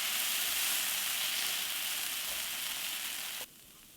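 Steady close sizzle of a sorghum jowar dosa frying on a hot pan, a continuous bright hiss that drops off abruptly near the end as the dosa is flipped.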